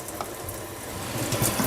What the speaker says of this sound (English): I like to get a bowl and turn some water on lightly